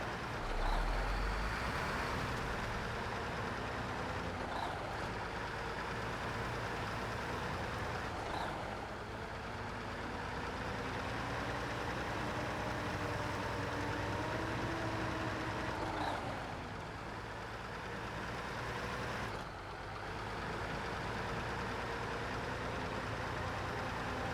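A truck engine in SnowRunner, somewhat underpowered, runs continuously with a steady low drone and shifting rev tones that rise and fall, loud and close throughout with no talk.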